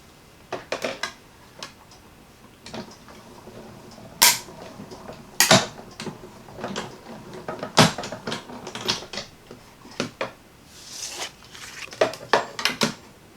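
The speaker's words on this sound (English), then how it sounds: "I'm going to take this over to my little die cut machine, and we're going to cut it." A small die cut machine works through a paper craft piece for a Christmas project, giving sharp, irregular mechanical clicks and clacks spaced across several seconds, close by and with no one speaking.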